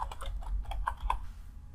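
Quick keystrokes on a computer keyboard, a brief close run of crisp clicks at an uneven rhythm that trails off toward the end.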